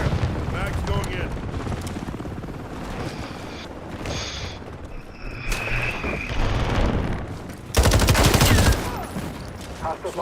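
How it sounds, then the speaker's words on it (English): Gunfire rattles almost nonstop in an MW4 multiplayer match, with dense bursts of automatic fire, explosions and a loud heavy barrage near the end, while game voice callouts talk over it. "Taking effective fire."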